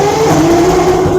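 A vintage British motorcycle engine in for repair fires up and revs, a loud buzzing tone that rises and holds in a brief burst.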